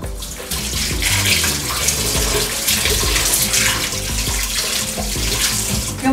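Tap water runs loudly and steadily while cod fish is washed, a continuous splashing gush with no voices.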